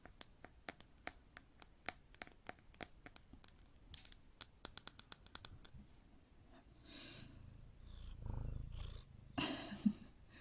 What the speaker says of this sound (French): J'ai mon chat avec moi.